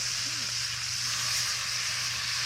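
Lemon juice sizzling as it hits a hot pan of trout with garlic over an open wood fire outdoors, a steady, even hiss with broadband crackle running the whole time, fairly close, with no talking.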